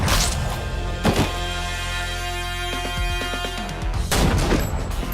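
Sniper rifle fire in a Red vs Blue battle scene, with several loud sharp cracks spread across the moment among clanks, thuds and background combat noise.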